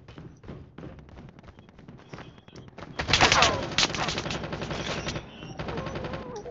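Rapid AK-47 rifle fire in a video game, sharp rattling shots that start quieter and then swell into loud, sustained bursts near the listener.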